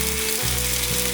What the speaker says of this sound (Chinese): 锅内放入少许油，油热了之后放入节瓜